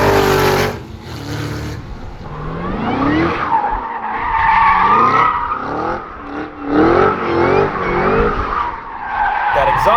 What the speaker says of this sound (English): That exhaust sound sounds really good.